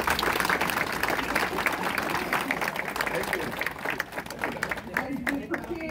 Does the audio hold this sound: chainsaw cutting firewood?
no